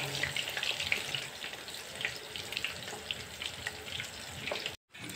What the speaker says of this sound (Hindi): इसलिए तेज़ आंच में ही हम इसे फ्राई करेंगे